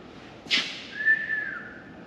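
A person attempts a whistle in a garage: a breathy puff, then a thin, faint, wavering tone that trails off, and no talking.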